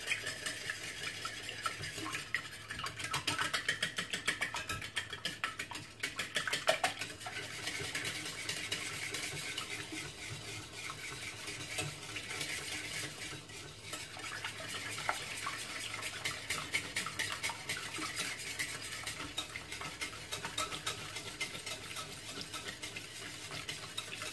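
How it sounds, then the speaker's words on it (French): Savory tuna muffin batter, seasoned with salt and pepper, gets whisked in a bowl: a quiet, continuous run of rapid scraping and tapping strokes with a faint wet churn. "Et je vais fouetter tous les ingrédients ensemble."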